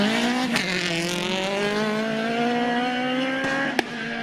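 Mid-1990s Citroën Saxo rally car at the Rally dei Laghi 2023 spectator stage, its engine revving high and climbing steadily in pitch as it accelerates, loud and close, with sharp cracks of detonation near the start and end.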